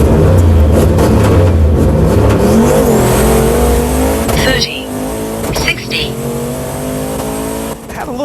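A turbocharged drag car running about 14.5 psi of boost on a medium tune launches down the track, engine revving loudly and shifting with a brief breakup, while a voice talks over the noise.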